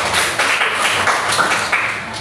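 A classroom full of students clapping hands together in brief, scattered applause, a dense patter of claps at moderate loudness lasting a couple of seconds.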